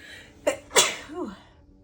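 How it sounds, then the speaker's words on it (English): A single close, sharp sneeze: a quick intake, an explosive burst, then a brief trailing vocal sound. "I have to sneeze."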